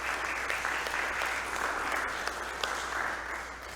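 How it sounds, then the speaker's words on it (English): A church congregation at a quarterly church conference gives a sustained, even round of applause, dense and steady throughout with a broad wash of many hands at moderate distance. "would you give them all a big round of applause"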